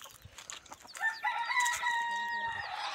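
Soft clucks and scratchy sounds from desi village chickens on a Konkan poultry farm, then a rooster crows loudly nearby, its long call filling the rest of the moment.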